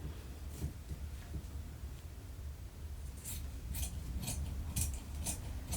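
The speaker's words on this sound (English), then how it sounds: "let's cut the pattern out" Scissors cutting a paper sewing pattern for an outfit: a run of crisp snipping strokes close by, faint at first and then louder, sharper clips in a loose rhythm toward the end.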